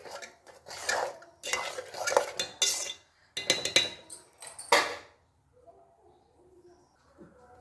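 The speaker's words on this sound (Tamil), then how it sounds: "வறுத்த முந்திரி திராட்சை இதில் போட்டுடணும். போட்டு நல்லா ஒரு கிண்டிடணும்." A spoon stirs kalkandu pongal with fried cashews and raisins in a metal vessel, producing loud repeated scraping and clanking bursts, then a quieter stretch where birds coo faintly in the background.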